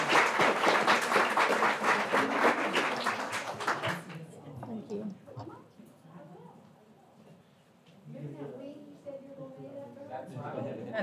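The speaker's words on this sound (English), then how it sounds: "Let's give these 4 amazing educators another round of applause." Dense, loud audience applause for educators at a school board meeting fills the first few seconds, then cuts off, leaving quieter voices talking in the room.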